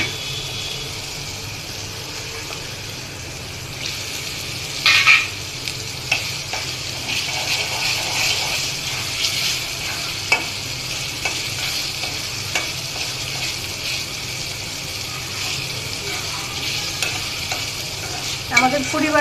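Prawns frying in a thick spice masala in a pan for a prawn do-pyaza, with a steady close sizzle and occasional stirring clatter and scrapes.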